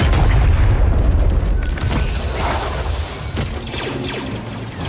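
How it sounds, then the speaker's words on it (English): A drop-bomb blast in a PC video game with showcase-level graphics: a loud, heavy boom at the start rolls into a sustained crashing rumble of debris and battle noise that fades only slightly over several seconds. "We've sent you a drop bomb."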